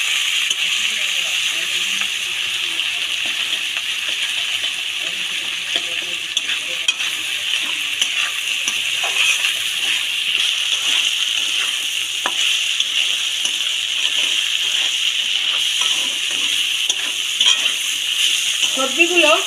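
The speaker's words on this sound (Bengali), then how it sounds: "মশলা দিয়ে সব সবজিগুলোকে আমি ভালো করে ভেজে নেব।" Mixed vegetables and spices fry in a pan for a home-style vegetable dal, an even, continuous hiss and crackle with faint ticks of stirring, close and steady for the whole stretch.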